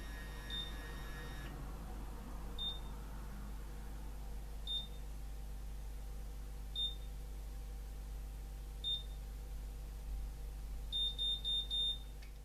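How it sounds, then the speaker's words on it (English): A heating curling iron gives faint, short electronic beeps every couple of seconds under a steady low hum, ending in a quick cluster of several beeps. "So that's the beeping that you can hear there"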